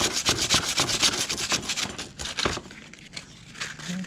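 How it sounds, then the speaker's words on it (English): Quick back-and-forth strokes of 100-grit wood sandpaper rubbing on plastic, close up, that slow and fade toward the end. "I'm just using some 100 grit wood sandpaper."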